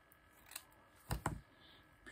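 Scissors snipping during a card-making craft project, two quick close cuts in succession with a faint snip before, quiet surroundings without talk.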